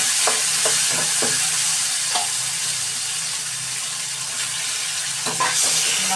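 Boiled tomatoes with mustard stirred and cooking in a pan, a loud steady sizzle close by with a series of light spoon taps and scrapes early and again near the end.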